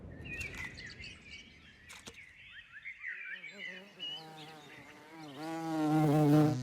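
A swarm of wild bees gathers on a branch at the edge of a forest. A droning, wavering buzz builds and grows louder toward the end, with scattered bird chirps earlier on.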